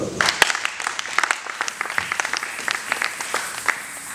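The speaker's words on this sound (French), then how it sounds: "Acclamez très fort." Church congregation applauding in scattered, uneven claps at moderate distance, a crowd of hands keeping up steadily with a few louder pops, without talk over it.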